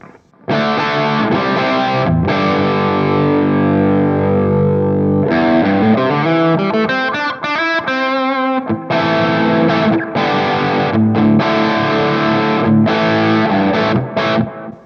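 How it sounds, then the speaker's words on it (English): Electric guitar through a crunchy overdrive pedal into a BluGuitar AMP1 recorded direct plays loud, gritty chords and a quick run of single notes, with sustained distorted ringing between strums and no voices. "why don't we put a crunch pedal in front of this"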